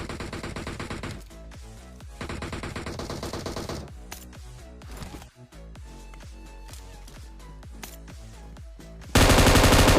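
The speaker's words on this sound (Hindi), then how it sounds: "इसके बंदे भाई फायरिंग करते हैं गुस्से में" Rapid automatic gunfire from the PUBG video game rattles in repeated close bursts and scattered single shots, ending in a loud burst of noise.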